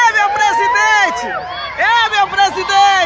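A street crowd cheers and shouts for President Bolsonaro in Barra do Garças, with overlapping excited voices, whoops and calls rising and falling in bursts, close and loud.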